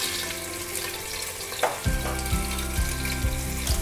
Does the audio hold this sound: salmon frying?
yes